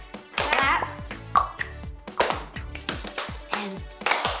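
A group of children and an adult clap together in time during a sing-along lesson, several sharp claps spaced unevenly, close and moderately loud, with some voices mixed in.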